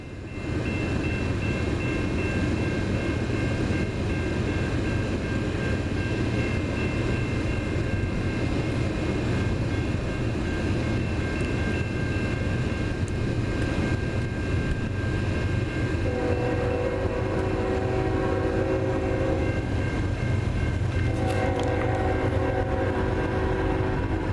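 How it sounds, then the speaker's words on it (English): A freight train rumbles past a level crossing in Ladysmith continuously with a heavy low roar, and near the end crossing bell or horn tones ring out in short repeated bursts. "last train for tonight, southbound is here"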